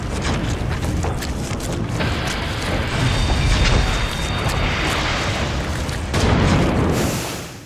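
A loud, rumbling blast with a sustained roar that swells, dips, then surges again before fading out at the end.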